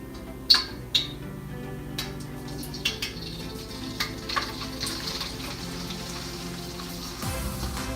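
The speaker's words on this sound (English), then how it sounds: "you're basically deep frying it" Hot oil in a wok crackles and sizzles steadily as an egg omelette deep fries, with a few sharp pops early on and scattered spitting bursts throughout, no voices.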